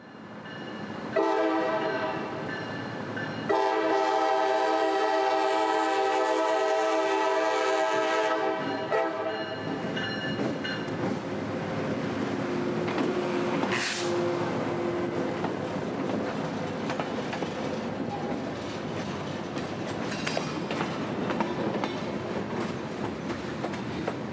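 A CSX freight local, the Old Port Tampa job, rolls across the Bay Boulevard road crossing in Bayshore Gardens near Tampa; its horn blares in long sustained blasts, then the cars keep rumbling and clattering past steadily, loud and close.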